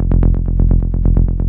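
Hard techno rolling bass synth holding F in rapid 16th notes, a loud, continuous stream of punchy, slightly distorted plucks with no voices over it.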